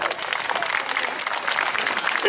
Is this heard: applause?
yes